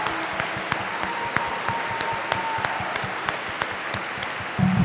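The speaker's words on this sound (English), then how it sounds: "Let's have one more big round of applause for our IndianaFIRST Board of Directors" Crowd giving a round of applause at a robotics district championship opening ceremony, sparse to moderate clapping with distinct individual claps over a steady hall ambience.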